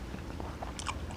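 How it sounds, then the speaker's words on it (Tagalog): Crunchy bites into spicy chicken Bicol express during a mukbang meal, a few close chewing crunches over a steady low background hum. "Unang kagat, maanghang agad."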